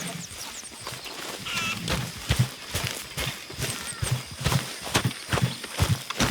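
Horse hooves in a video game, clip-clopping in an irregular rhythm at moderate distance, with a few softer thuds and faint ambient noise between the steps.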